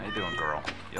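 A pet cat meows close by in a short, drawn-out cry, while a person speaks softly to it at the same time.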